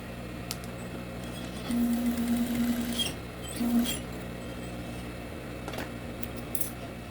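A sewing machine stitches a seam of chita print and raw cotton fabric in two short runs, a faint whirring buzz near and quiet against a soft room background.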